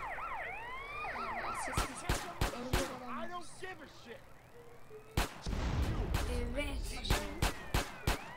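A wailing police siren in GTA San Andreas sweeps up and down under game sound effects, with sharp bangs and thumps punctuating it and a person talking over it.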